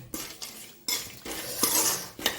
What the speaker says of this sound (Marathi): मिरची आता कडकड वाजायला लागलेली आहे हलवताना शेंगदाणे सुद्धा कडकड वाजायला लागलेले आहेत